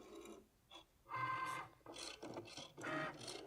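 Cricut cutting machine loading PVC vinyl with masking tape, then running: mechanical whirring and ratchet-like clicks in several bursts of carriage movement, close and moderately loud, with no talking.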